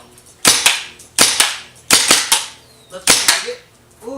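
A remote control turret fires during a firing test, four sharp loud shots spaced about 0.7 seconds apart, each with a short echoing tail, and no talking.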